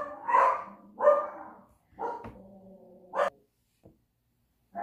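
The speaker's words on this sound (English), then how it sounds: "The dogs are driving me nuts." A dog barks several times in a quick irregular series, fairly close and moderately loud, with short pauses between barks and no voices.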